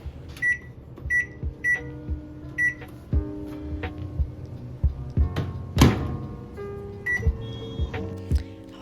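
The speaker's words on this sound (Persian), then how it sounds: "سیب زمینیامو یه خورده بخار پس کردم، بعدم نمک فلفل و روغن زیتون زدم و گذاشتمش توی مایکروفر که یه خورده گریل بشه" A microwave oven grilling steamed potatoes seasoned with salt, pepper and olive oil: repeated short beeps, door thunks and clicks, a low running hum between them, close and fairly loud with no talking.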